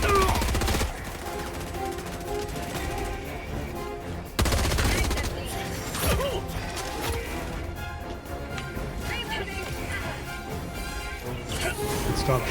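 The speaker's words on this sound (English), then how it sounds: "Because you spent all that time shooting it with a machine gun?" Sustained automatic gunfire and heavy impacts from the Helldivers video game run loud and nearly unbroken for about twelve seconds, layered with dense game effects and music-like tones.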